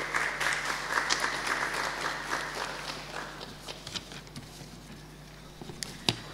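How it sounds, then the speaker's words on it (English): An audience claps for a panelist at an anniversary lecture event, fairly quiet applause that thins out after a few seconds into scattered individual claps. "A round of applause for Mr. Raphael."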